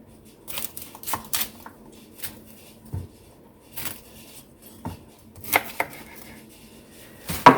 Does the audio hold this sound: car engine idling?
no